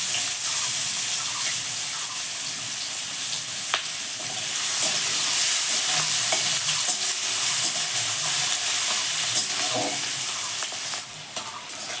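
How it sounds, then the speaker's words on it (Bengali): Chopped onions frying in hot oil with whole garam masala, a steady broadband sizzle running throughout with occasional stirring clicks, close and fairly loud, no voices. "এবার পেঁয়াজ কুচি দিয়ে দেবো।"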